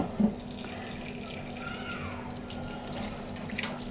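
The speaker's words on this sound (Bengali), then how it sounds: "এখন আমি এই সরিষাগুলো একটু ভালোভাবে ধুয়ে ভিজিয়ে নেব" Mustard seeds rinsed under a running kitchen tap, a steady wash of flowing water with small splashes and a brief louder splash near the start, heard fairly close and alone.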